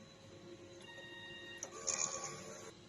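A sublimation printer whirs and hums through a print head cleaning cycle, with steady motor tones and a few soft clicks near the end.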